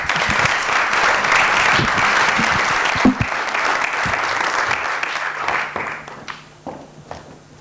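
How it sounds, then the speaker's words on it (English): Warm audience applause at a festival talk as speaker Beny Wagner is welcomed to the stage, steady and full at first, then thinning into scattered claps and a few footsteps before fading out. "Warm applause for Beny."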